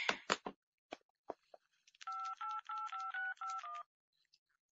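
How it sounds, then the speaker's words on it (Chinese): In a radio crime drama, a telephone line goes dead after a caller hangs up, leaving a run of about six repeated electronic tone bursts in a steady rhythm, preceded by a few brief clicks and handling sounds. "苗探长，3分钟之内已经有人第二次挂断电话了。"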